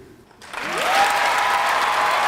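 After a brief quiet moment, an audience at a poetry event bursts into sustained applause that swells quickly and holds loud and full, with a cheering voice riding on top.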